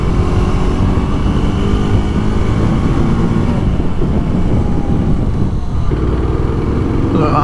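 A KTM RC 390 motorcycle engine on the move, a loud, steady drone that runs for several seconds with wind rush over it and a slight change in pitch near the end, with no voices.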